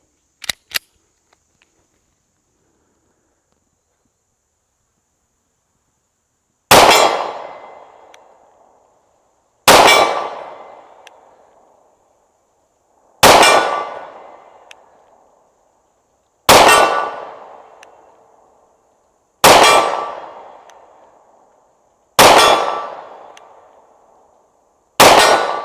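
A Smith & Wesson M&P Shield Performance Center pistol fires at a steel target 40 yards away, with seven loud, evenly spaced shots about three seconds apart. Each crack rings and decays, after a couple of small clicks at the start.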